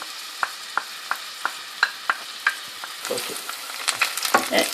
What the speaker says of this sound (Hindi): ये प्याज फ्राई कर लिया मैंने, ये फ्राई हो गया।